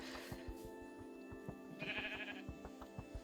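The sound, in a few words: sheep bleating in the video game Minecraft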